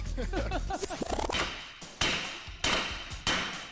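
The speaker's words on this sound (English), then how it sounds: "that's the sound of trying to get a stuck wheel hub bearing off" Sharp metallic strikes ring out at intervals, hammer blows on a stuck car wheel hub bearing, following a stretch of clattering and scraping.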